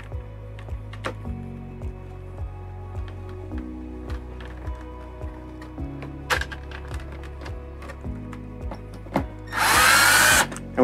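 Power drill driving screws in to start them while fitting a WackO RV A/C silencer on a Coleman-Mach air conditioner, a series of short stepped motor whirs rising and falling in pitch, ending with a louder burst.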